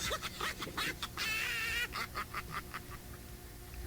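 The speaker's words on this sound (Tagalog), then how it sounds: "Parang farm yata ng manok yun dyan ah." Poultry calling from a nearby chicken farm in Bataan, a burst of honking, clucking cries repeating over about four seconds at moderate distance, with a busy outdoor background.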